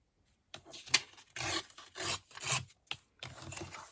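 Printed paper ephemera is torn by hand in several quick, separate rips, each a short rough tearing burst with brief pauses between, close and fairly quiet.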